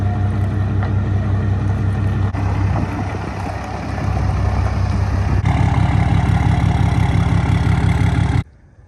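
A 2017 Ram Laramie mega cab with a Cummins diesel, badly damaged, runs steadily close by. The engine drones low and continuous, its note shifting slightly twice, then cuts off abruptly near the end.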